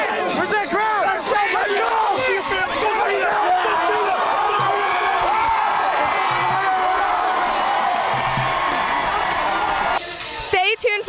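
A high school football crowd cheers and whoops loudly and steadily after an Eisenhower win over Dakota, a dense wash of shouting voices that cuts off near the end.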